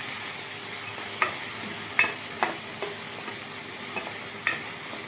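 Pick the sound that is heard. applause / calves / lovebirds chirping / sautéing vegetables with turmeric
sautéing vegetables with turmeric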